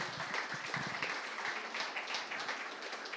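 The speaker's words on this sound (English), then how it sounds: "Round of applause, ladies and gentlemen." Dense, continuous audience applause fills the room at a media company's 25th anniversary event, a quiet, even wash of many hands clapping at a distance with no speech.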